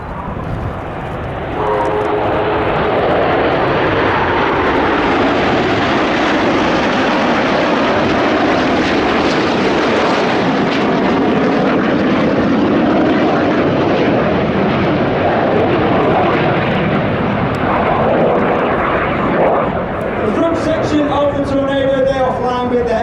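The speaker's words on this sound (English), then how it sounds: "This is the Tornado!" A Panavia Tornado jet roars past low at an air show, its loud, broad engine noise swelling and fading steadily for over twenty seconds, with a commentator's voice heard faintly near the end.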